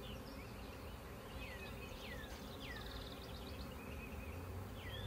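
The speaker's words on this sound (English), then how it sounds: "let all these flying bees that are still around here get inside the new home here" Honeybee swarm being hived into a new home, with many bees still flying around outside: a steady dense buzz fills the background, with brief higher chirps over it and no voices.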